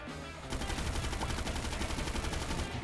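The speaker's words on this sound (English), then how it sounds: "You could do. I can shoot at him." Rapid automatic gunfire in a video game about robbing cars, a dense continuous burst of loud, evenly spaced shots starting abruptly and running to the end.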